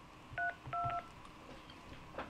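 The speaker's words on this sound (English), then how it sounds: "please enter the following number on your phone's touchtone pad" Two touch-tone keypad beeps, one short and one longer, pressed on a phone during an automated Windows product activation call, heard over a faint phone line.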